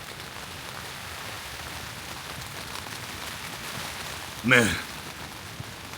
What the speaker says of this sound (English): It's blowing gales and chucking it down flat.